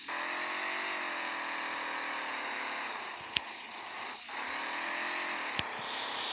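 A Ford Ranger truck engine holds a steady high rev, a loud continuous droning whir with slight dips in pitch and two brief sharp clicks partway through.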